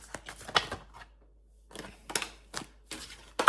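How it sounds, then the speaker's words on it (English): A deck of tarot cards is shuffled close up in quiet bursts, the riffling flutters coming in short clusters separated by a pause, with no talking. "They said that was a sloppy shuffle."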